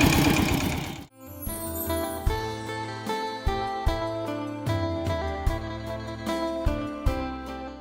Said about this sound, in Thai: แม่น้องอลิสาขับรถไถครั้งแรก